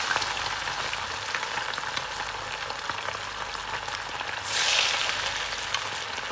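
Anchovies (nethili) deep-frying in hot oil for crispy Nethili 65 give a steady, dense sizzle that swells louder near the end; no one speaks.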